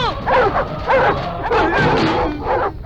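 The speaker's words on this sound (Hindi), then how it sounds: "भौंकना बंद कर।" Dog barking and yelping in a Hindi-dubbed action film scene, several loud, close barks in a quick run mixed with whimpers, while a voice speaks over part of it.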